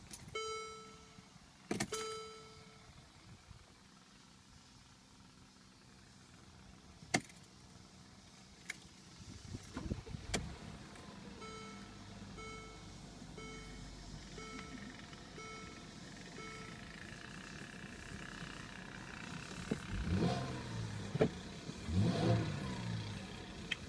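A 2014 Mercedes-Benz ML350 engine starts outdoors on a hot day in New Jersey, with key jangles and clicks, then a steady low idle that swells in a brief rev near the end; no talking.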